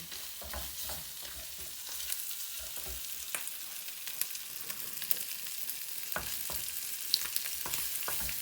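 Kokoreç with pastırma frying in a pan, a soft steady sizzle and crackle with scattered sharp pops and stirring clicks throughout, fairly quiet and with no talk.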